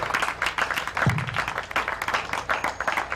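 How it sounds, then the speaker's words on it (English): An audience at an Igbo lecture event claps, with uneven clusters of hand claps coming in waves and a brief low thump partway through. "Please, more rounds of applause for our distinguished."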